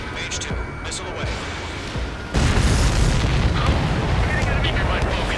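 In the video game Ace Combat 7, a missile launches and explodes with a sudden loud, rumbling roar that sets in partway through and stays sustained over the background noise of the jet.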